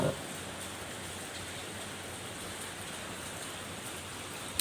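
Heavy rain falling in Kakkanad, Ernakulam: a steady, dense, even hiss of downpour that holds constant throughout, with no voices.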